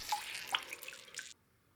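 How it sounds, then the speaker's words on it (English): Water drips and trickles faintly in a kitchen sink while eggplant pieces are rinsed, a short patter of light splashes that stops abruptly after about a second. "Rinse clean with water, and then squeeze water out of these eggplant cuts as much as possible."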